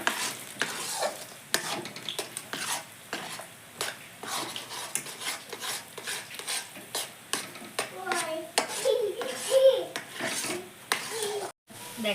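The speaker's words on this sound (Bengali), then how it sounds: "তালটা দিয়ে জ্বালাই নিচ্ছে" Palm fruit pulp being stirred and simmered in milk in a wok for palm kheer, giving steady scraping and bubbling sounds close by with intermittent soft clatter throughout.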